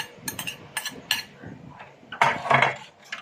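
Fruit cocktail and cream being stirred together in a bowl, giving a series of light clinks and scraping clatters of a utensil against the dish, close and moderately loud with no talking.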